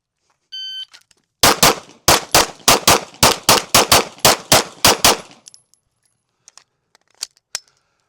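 A pistol fired in a target transition drill: a rapid string of about eleven sharp, loud shots in quick, slightly uneven rhythm, then a couple of fainter distant pops and a short beep before.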